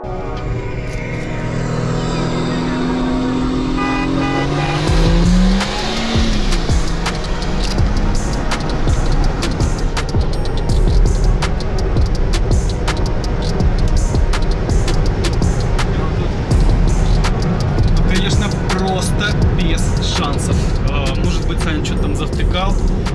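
BMW Z4 stage 3 and Mercedes C63 AMG stage 2 launching in a drag race, engines rising in pitch through the gears and staying loud and sustained for over twenty seconds, with talk over the roar.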